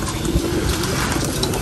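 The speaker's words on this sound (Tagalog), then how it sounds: "mga kalapati natin na nakatago lang dito sa ilalim" Pigeons kept as breeders coo softly in a sheltered spot beneath a loft, a low continuous murmur of calls with steady background noise throughout.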